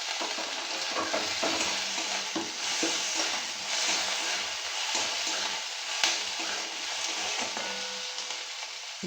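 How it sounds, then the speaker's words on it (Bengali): Chopped tomato and onion stirred and fried together in a pan for a Bengali dal with greens, a steady loud sizzle with scraping stir strokes throughout and no talking. "এবার এটা নেড়ে চেড়ে ভেজে নিতে হবে।"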